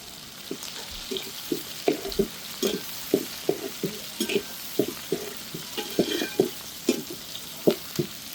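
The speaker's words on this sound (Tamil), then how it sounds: "வெங்காயம் தேங்காய் எல்லாம் கரெக்டான பதத்தில் நல்லா வதங்கி வருது" Onion, garlic cloves and coconut pieces sauté in a pan for Mettur-style fish curry, with a steady rhythm of close stirring scrapes and clicks over a soft, continuous sizzle, and no voices.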